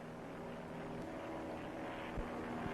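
A WWII bomber aircraft on a bombing run, its engines giving a steady, loud, continuous drone with a low rumble and a brief thump near the end.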